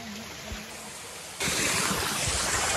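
Water rushing down a stream and waterfall during a hike in Dzukou Valley, Nagaland, a steady broadband roar that jumps sharply louder halfway through as if moving closer to the falls.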